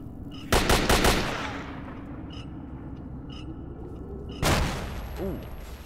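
Two heavy shotgun blasts boom in S.T.A.L.K.E.R. Shadow of Chernobyl, one near the start and another several seconds later, each leaving a rumbling tail over quiet ambient hum.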